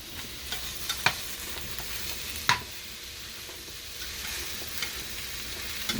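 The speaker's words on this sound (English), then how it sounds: "we're going to kind of stir it around a little bit with our spatula to get it good and started" Mushrooms for beef stroganoff stirred with a spatula in a frying pan, a soft steady sizzle with a few sharp scrapes and clicks from the spatula, close but fairly quiet, with no talking.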